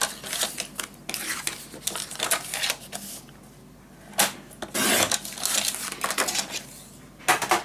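Paper for a scrapbook mini album is cut with a string of crisp, close snips and slicing scrapes, coming in irregular bursts separated by short pauses.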